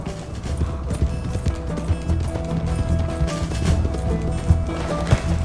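A fast horse gallops in Red Dead Redemption 2, steady clip-clopping hoofbeats close and continuous over a busy game soundscape, with a faint neigh.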